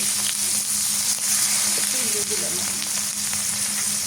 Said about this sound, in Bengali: তাওয়া গেছে এখন মাছটা দিয়ে দিই এক দুটোই বাজা দেবো